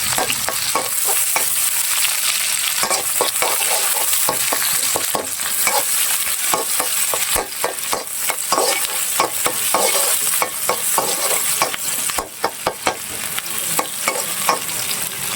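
Ingredients sizzle in hot oil for lentil dal, with a constant loud frying hiss. Repeated scraping strokes of a spatula stirring in the pan run throughout, up close, with no talking.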